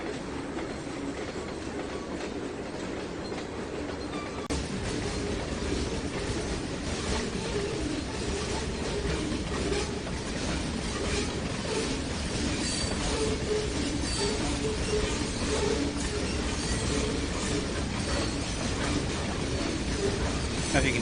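Coal train in the Trainz 2019 simulator on the Tidewater route, a steady rumbling roll with clickety-clack wheel rhythm and faint squeal, growing slightly louder after a few seconds, with someone talking over it.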